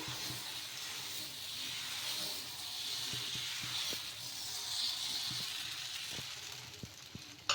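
Pesarattu, a green gram dosa, has its batter ladled and spread on a hot pan, giving a steady, close hiss and sizzle throughout with a few faint clicks.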